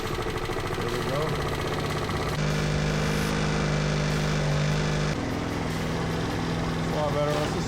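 A Vespa scooter engine idles steadily after a repaired wiring fault, a close, continuous mid-pitched drone with a brief change in tone midway and no speech over it.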